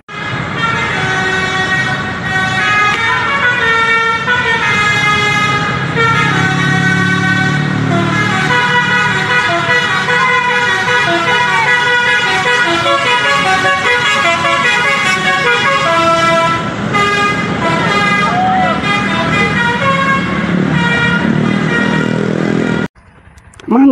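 A Blue Star coach bus rolls past with loud engine and traffic noise, its horn sounding in repeated melodic toots over the steady roar, close by and continuous until an abrupt cutoff near the end.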